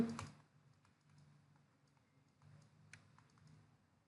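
Code is typed on a computer keyboard during a Java lesson: soft, close keystroke clicks come in irregular bursts after a louder thump at the start, quiet throughout and with no talking.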